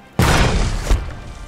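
A ballista in Conan Exiles lets off a single heavy boom, a loud abrupt thump that decays quickly into a short rumbling tail.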